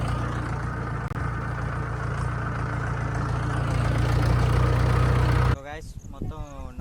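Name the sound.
tractor engine running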